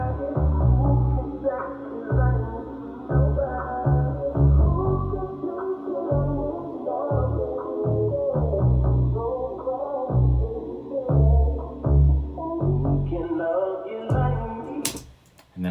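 A music sample pitched down two semitones plays as a looping groove with a steady, thumping low-end beat and layered chord tones, ending with a sharp percussive hit.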